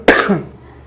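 A single sharp cough in a classroom, loud and close, with a brief throat-clearing tail trailing off into quiet room tone.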